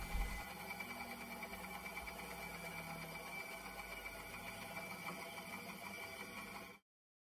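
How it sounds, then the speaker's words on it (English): A bandsaw squares up wooden gunwale pieces for a skin-on-frame Greenland kayak, its blade running in a steady, even whine and buzz for several seconds before cutting off abruptly. "I'll just set the bandsaw for a square cut. I'll cut out all of my shapes"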